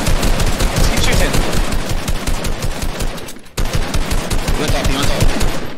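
Rapid automatic gunfire rattles in a shooter video game, a loud, dense stream of shots with a brief break partway before the firing resumes, with faint player voices underneath.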